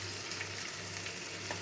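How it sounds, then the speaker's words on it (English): Oil sizzles and crackles steadily in a pan in a tiny kitchen, a soft continuous frying hiss with faint pops, heard alone without talk. "you can only do so much frying"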